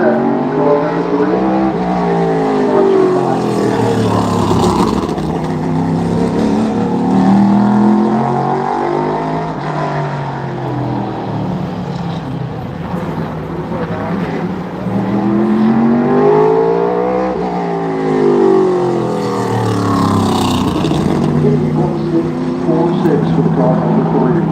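Race car engines roaring around the short oval at Bowman Gray Stadium during practice, loud and continuous with repeated rising and falling pitch sweeps as cars pass, under a steady announcer's voice.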